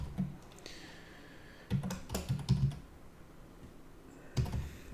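Clattery bursts of typing on a computer keyboard, quick irregular key clicks in short clusters separated by pauses, close and fairly quiet.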